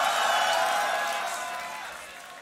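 Crowd cheering and applauding for a solo competitor at the Grand Beatbox Battle 2019, a broad roar that fades steadily toward quiet.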